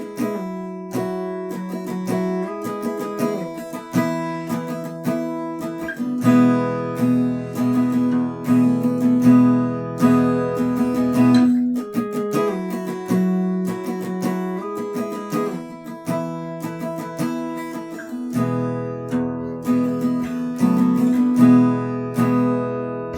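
A song's intro is played on guitar using octave shapes, ringing in repeated strummed phrases with clear pauses between chords, sounding close, full and steady, with no one talking.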